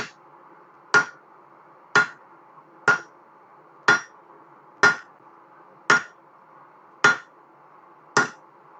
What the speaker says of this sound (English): slower hammer blows with a lot more effort.